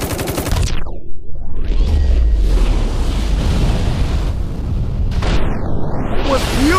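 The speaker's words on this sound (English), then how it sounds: "Love explosions!" Booming explosions and rumbling blasts dominate, loud and sustained, with whooshing sweeps and crackling debris in the mobile game City Of Outlaws.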